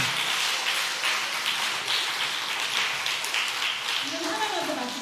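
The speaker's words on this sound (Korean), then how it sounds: "박수 좀 치세요." A church congregation applauds at a Sunday afternoon worship service with a close, sustained wash of many hands clapping that stays steady throughout, as a voice starts speaking over it near the end.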